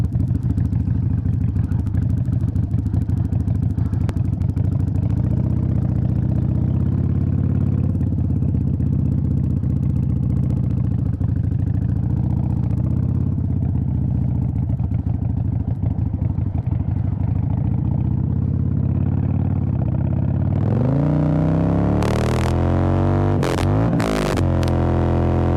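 A Harley-Davidson Iron 883 motorcycle rumbles at a loud, steady idle close by, then gives several sharp throttle blips near the end.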